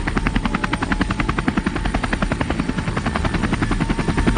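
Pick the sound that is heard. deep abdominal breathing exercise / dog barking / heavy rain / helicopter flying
helicopter flying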